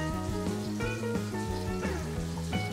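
Garlic cloves and lemon slices sizzle steadily in hot oil in a pan, a continuous crackling fry heard close up beneath tonal background music, with no talking.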